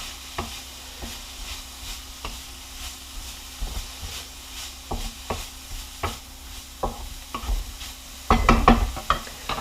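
Chopped green onion stirred into a hot, sizzling pan for egg rolls, with a steady close fry hiss and a series of scraping stir strokes that grow louder and busier toward the end.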